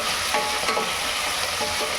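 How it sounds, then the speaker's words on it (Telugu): Vegetables fry in a pan with a loud, constant sizzle, and soft stirring scrapes come through at a slow, even pace. "వీటన్నిటిని బాగా ఫ్రై చేద్దాము"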